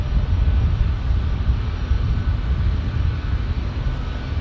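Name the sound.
Boeing 757 airliner at San Diego airport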